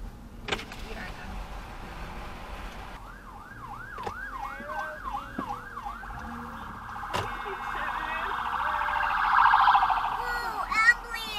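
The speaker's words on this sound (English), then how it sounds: "Whoa, ambulance!" A wailing ambulance siren sweeps up and down in fast repeated cycles, passing close and loud amid New Jersey traffic noise and brief voices.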